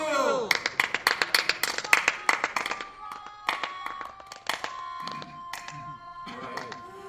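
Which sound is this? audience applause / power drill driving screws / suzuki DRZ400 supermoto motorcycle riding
audience applause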